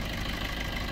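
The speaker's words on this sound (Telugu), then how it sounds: "ఇంజన్" A 2017 Maruti Breeza ZDI Plus diesel car idles with a steady, dense engine rumble and clatter, recorded close and constant throughout with no talking.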